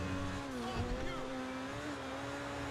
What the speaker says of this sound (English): It's like the engine's gone bust.